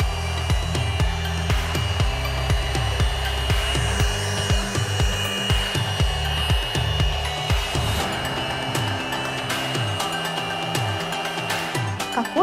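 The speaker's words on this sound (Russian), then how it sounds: "Ну что, попробуем этому пылесосу устроить настоящий стресс-тест. И пропылесосим все сразу." An Avreology cordless vacuum cleaner sucks up a pile of buckwheat, salt and cookies, giving a steady loud motor whine with dense rattling and crunching as the debris is drawn in, running continuously throughout.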